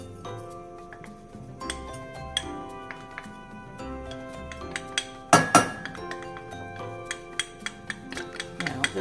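Garlic and dried onions tossed into a pot of lentils, heard as a run of light clinks and taps against the pot with one louder clattering burst midway, close and without talk.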